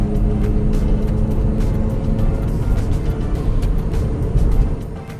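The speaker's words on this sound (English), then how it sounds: "we'll show you what that 156 horsepower can do. Great acceleration." A 2017 Jeep Compass High Altitude with a 156-horsepower engine accelerates under a loud, steady engine drone and road and wind roar from inside the cabin.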